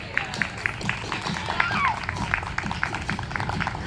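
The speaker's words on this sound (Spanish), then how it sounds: "Y la recibimos con un fuerte aplauso" A live audience claps to welcome a woman guest onto a Spanish-language TV show stage, a steady patter of applause with scattered shouts and voices mixed in.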